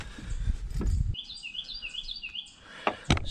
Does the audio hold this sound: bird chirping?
yes